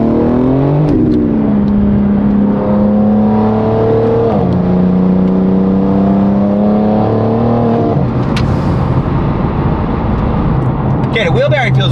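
A BMW M4 Competition accelerates hard on cold tires, the engine rising through several gears in loud, close revving sweeps with shifts between, and a voice talks over it.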